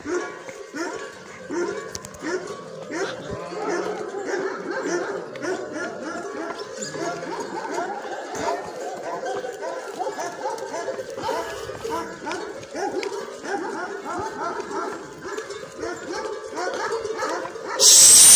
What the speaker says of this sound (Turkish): Sizi gidi sokak köpekleri sizi.